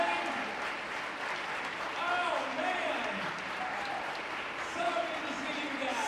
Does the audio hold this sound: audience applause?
yes